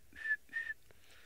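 Two short rising whistles, a human imitation of a tinkerbird call heard on a safari live stream, close and clear against quiet background.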